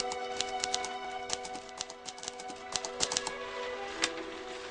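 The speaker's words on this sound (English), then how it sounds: "I am just on the grisly job of typing out my novel." A typewriter typing, rapid irregular bursts of sharp key strikes with short pauses, fairly quiet and close with no talking.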